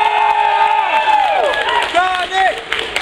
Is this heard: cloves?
no